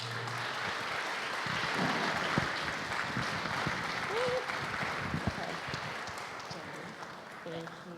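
Steady applause from an audience at a public event, fairly faint and continuous across the whole stretch, with a voice briefly audible near the end.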